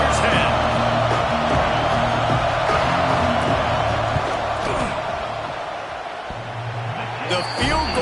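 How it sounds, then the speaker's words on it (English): A football stadium crowd roars in a continuous loud wash during a field goal attempt, with scattered whoops and shouts, fading slightly toward the end while a commentator talks over it. "This crowd trying to do its part to get inside the kicker's head."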